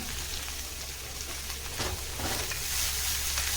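Cabbage, ginger and black urad dhal sauté in a little oil for a chutney, producing a continuous close hissing sizzle with a few soft scraping stirs.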